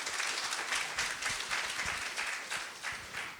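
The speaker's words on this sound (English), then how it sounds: "So one more time, clap for her" Poetry cafe audience claps for a singer, a steady, moderately loud patter of many hands sustained throughout without speech.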